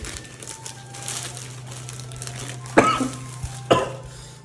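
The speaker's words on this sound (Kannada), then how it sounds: "ಗಿಫ್ಟ್ ನೋಡಿ ಕೆಮ್ಮು ಬರ್ತೈತೆ ಅವನಿಗೆ" Two short coughs close by, over a low steady hum and faint rustling.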